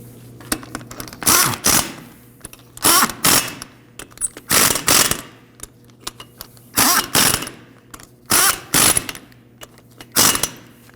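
A ratchet snugs down the wheel lug nuts on a 1993-2001 Subaru Impreza in a run of quick clicking bursts, each a second or so long, separated by short pauses, close and clear.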